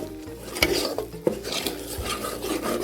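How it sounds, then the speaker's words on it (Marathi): Mutton curry with grated coconut is stirred in a pan, a spoon scraping and clinking against the metal in a quick, busy rhythm, close and fairly loud, with no voices. "खोबर टाकून आपल्याला चांगलं हलून घेईन"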